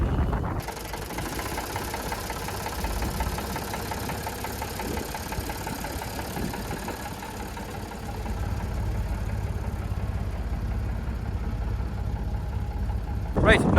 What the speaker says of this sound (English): So we'll get the forklift, lift it out